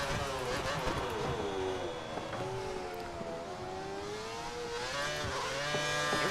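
Simulated Formula 1 car in F1 2013 on the Korea circuit during qualifying, its engine note rising and falling as it brakes on the engine, a continuous whining drone with no speech over it.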